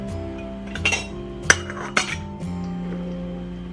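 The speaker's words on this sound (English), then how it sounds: "I'm going to fill the jars with my cut peppers" Glass canning jars being filled with cut banana and Murasaki peppers for pickling, giving a few sharp, close clinks and knocks of glass over a low steady hum.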